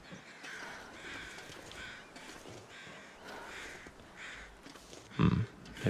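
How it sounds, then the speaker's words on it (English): Crows caw several times in the snowy wilderness of the survival video game The Long Dark, moderately distant and fairly faint over a steady ambient wind bed, with a louder caw near the end. "I hear some crows, so something is dead up top here."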